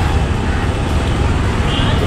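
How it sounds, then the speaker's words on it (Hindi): Dense road traffic on a crowded road heard from a ride, a steady broadband roar of engines and tyres that stays loud and constant throughout, with faint crowd babble mixed in. "और पता नहीं इतना ट्रैफिक क्यों है यार"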